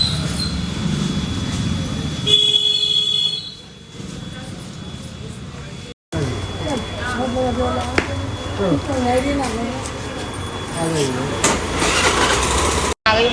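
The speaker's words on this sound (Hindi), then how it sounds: "आ गई मेट्रो।" A metro train pulls into a station with an engine-like rumble and hum, joined by a steady high whine. Someone talks over the noise near the middle and end, and there is a brief dropout partway through.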